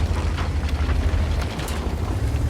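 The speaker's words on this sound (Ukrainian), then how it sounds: "Ах, артилерія!" Artillery shell blast in a World of Tanks-style tank game on a mining map, a loud low rumbling boom with steady heavy low-end roar and brief crackles throughout, no voices.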